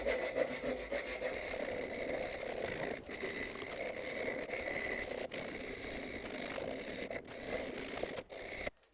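Steady rhythmic rasping of tape-backed sandpaper rubbed back and forth on a wooden hand plane knob, close up, with a few brief pauses between strokes.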